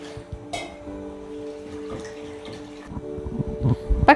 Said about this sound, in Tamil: இப்போ பருப்பை கழுவிக்கலாம் தண்ணி ஊற்றி